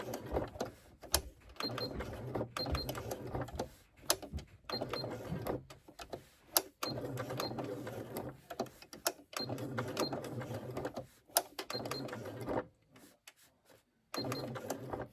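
Sewing machine stitching a handbag with a Santa face design, with long runs of rapid mechanical chatter broken by brief stops and a near-silent gap, close and steady, with no talking.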